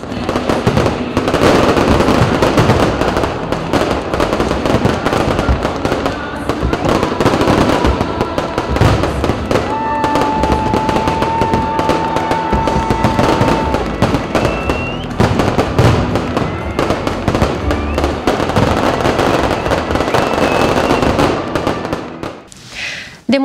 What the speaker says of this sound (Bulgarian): За финал небето над Хасково бе осветено от пищна заря